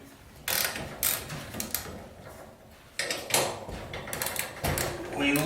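A 7/16 ratchet loosens the two set screws on a garage door torsion spring drum, giving several bursts of close, sharp metallic clicking separated by brief pauses.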